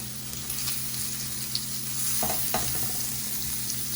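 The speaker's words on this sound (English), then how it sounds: "let's put the onions first." Onions sizzle in a hot pan over heat set between low and medium, a steady, even frying hiss with a few faint stirring clicks, close and moderately quiet.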